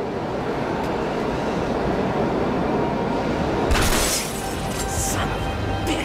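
A tram rumbles into a station in the video game Max Payne 3, a dense, continuous rolling roar with a sharp crashing burst toward the end.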